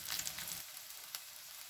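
Meatballs and potato slices fry in a pan with a soft, steady sizzle and crackle that drops to a quieter hiss partway through.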